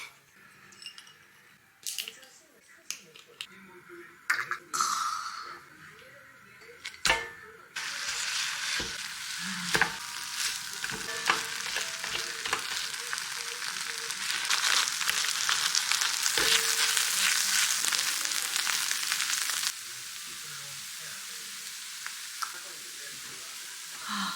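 Leftover Korean stew with rice being stir-fried in a pan: after scattered clicks and scrapes, a loud, continuous sizzle starts and builds, broken by utensil taps and stirring, then drops back to quieter clatter near the end.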